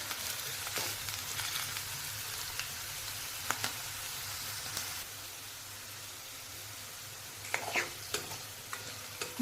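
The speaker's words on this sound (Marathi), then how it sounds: "मोठ्या गॅसवर आता मी थोडेसे बटाटे परतलेले आहेत" Potatoes sautéing in a pan over a high gas flame, a faint, steady sizzle with occasional light clicks and stirring taps, no talking.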